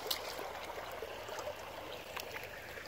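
Water of the Little Bushkill Creek, a small stream, runs and trickles steadily as a faint, continuous wash of outdoor noise, with no voices heard.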